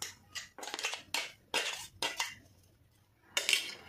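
Powder is added into melted jaggery in a pan, heard as a series of close, sharp metal scrapes and clinks from a spoon against the pan. They come in short bursts, and no one speaks.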